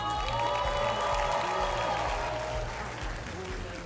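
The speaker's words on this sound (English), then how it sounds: "a round of applause, ladies and gentlemen" Audience applause at the 2025 ABH Grand Finale, a steady wash of clapping from a crowd that holds throughout and eases slightly near the end, with a voice speaking over it.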